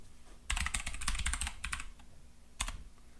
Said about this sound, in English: I'm just typing my Wi-Fi really quick.